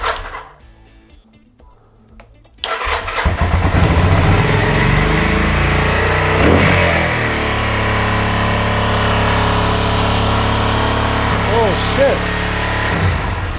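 Kawasaki Vulcan 750 project motorcycle, a V-twin engine with carburetor and fuel filter trouble, cranks after a quiet pause, fires up and runs loudly and steadily up close, with a brief spoken curse.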